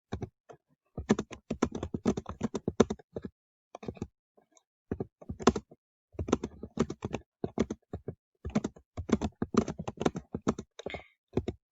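Irregular bursts of clicky keystrokes on a computer keyboard, fast runs of typing broken by short pauses, close and fairly quiet, with no voices.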